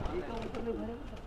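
An Allahabadi pigeon, light pink with red markings, gives a brief, soft rising-and-falling coo close by while someone talks over it.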